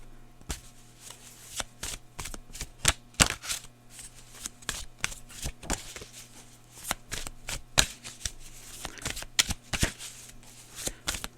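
Tarot cards being shuffled by hand, a long run of close, crisp riffling and flicking bursts in irregular rhythm, with no talking over them.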